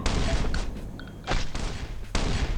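Gunfire from the survival video game Last Island of Survival comes as loud, close bursts of shots, with two or three heavy volleys separated by brief pauses.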